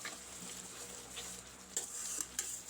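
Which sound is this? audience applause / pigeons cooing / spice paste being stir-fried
spice paste being stir-fried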